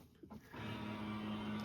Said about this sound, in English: Sorry about the noise from my printer